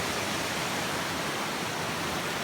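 A stream rushes past beneath a trail bridge on the Appalachian Trail, a dense, steady broadband roar of flowing water, close and constant with no voices.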